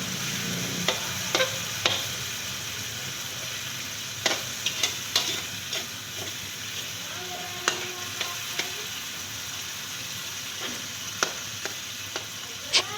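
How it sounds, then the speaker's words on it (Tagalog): Sardines are sautéed in a pan, with a steady low sizzle under sporadic sharp scrapes and taps of a utensil stirring, close and alone without voices. "Lagyan na natin ang saba or sardinas."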